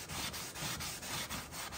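A brand-new white scrub pad rubs back and forth inside a Ninja Foodi oven, giving a steady, close, quiet scouring sound in regular strokes.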